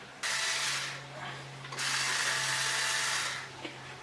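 Screws being removed from the ramp of a NordicTrack 1300 elliptical, heard as two sustained whirring bursts of a powered driver, each lasting over a second, close and fairly loud over a steady low hum.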